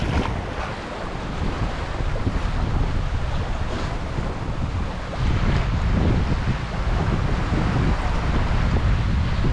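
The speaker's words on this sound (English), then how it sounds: "a little rough, a little windy" Strong wind buffets the microphone on a rough beach, a dense roaring rush with surf churning underneath, loud and steady for the whole stretch with no talking.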